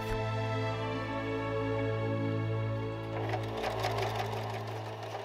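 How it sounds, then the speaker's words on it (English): A sewing machine runs steadily and loudly up close, stitching cotton tape to the upper edge of fabric for an 1860s-style gown, a continuous humming motor with rapid needle rattle throughout. "I start by sewing a cotton tape to the upper edge of my fabric"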